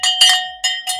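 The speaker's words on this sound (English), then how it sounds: "We're going to ring our bell again." Small handheld bell, rung to mark finishing a savings game, gives four bright metallic strikes with sustained ringing tones, close and loud with no talk.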